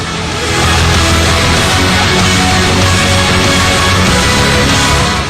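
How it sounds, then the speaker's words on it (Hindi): Roaring floodwater in the Haldwani Raskiya drain sweeps a car away, a loud continuous broadband rush that swells after the first half second and holds steady with no voices. "गरजते सैलाब में खिलौने की तरह बह गई कार।"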